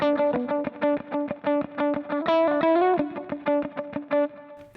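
A Stratocaster electric guitar through profiled amp effects plays a repeated chord riff, choppy and evenly rhythmic with a brief sustained bend in the middle, heard alone at moderate level.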